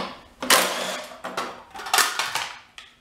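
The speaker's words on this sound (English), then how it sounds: "First thing I need to do is pull the wheel off." A ratchet with a 1/2-inch socket loosens the wheel of a Lawn Boy mower, with several close, bursty rasping strokes separated by short pauses.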